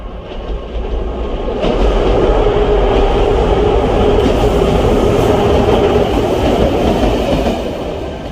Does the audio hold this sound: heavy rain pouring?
no